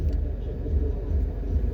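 Afternoon street traffic in the town of Mandeville, Jamaica, a steady low rumble of nearby vehicles and engines with no clear gaps.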